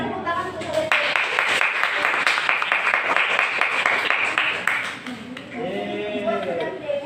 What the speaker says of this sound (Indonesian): Tepuk tangan untuk Oleh Dewi